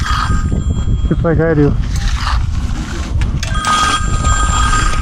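Outdoors at a concrete driveway pour, a phone rings in short trilling bursts beneath loud wind and work noise. A voice speaks briefly between the rings.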